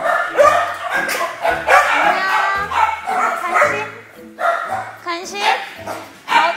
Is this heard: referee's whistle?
no